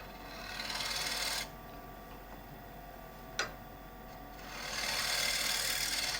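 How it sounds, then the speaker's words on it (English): A shear scraper rasps across the bottom of a clay plate in two steady, close scraping strokes separated by a quieter pause with a single small tick. "So you can scrape the bottom."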